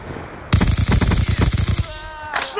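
Skorpion EVO submachine gun fired in a Call of Duty style video game, a loud rapid burst of close automatic shots, then a short pause and a few trailing game sounds.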